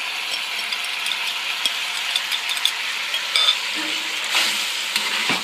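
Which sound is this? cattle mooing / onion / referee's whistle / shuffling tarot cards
onion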